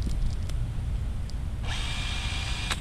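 A power drill whirs steadily, with a sharper high-pitched whine kicking in partway through over constant low rumble.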